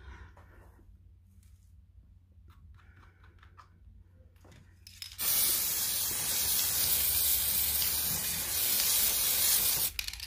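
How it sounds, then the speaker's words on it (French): Artificial snow sprays from an aerosol can onto a Christmas table centrepiece in one steady, loud, close hiss lasting about five seconds after a quieter stretch of faint tapping. "Je mets de la colle en spray et ensuite je vaporise de neige"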